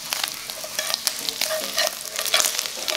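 Bamboo shoots stir-fried in a pan with oil, garlic, ginger and shallots: crackling sizzle with repeated scraping and clatter of the utensil against the pan, busy and close.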